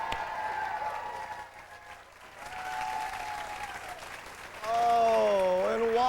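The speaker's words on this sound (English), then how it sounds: "while you're applauding the never-before-seen voice of the Reggie Miller Show, Jefferson G, everybody." Studio audience on a 1996 late-night TV talk show applauding and cheering after a band's performance, a broad wash of clapping that swells louder toward the end, with a voice and sustained musical tones sounding over it.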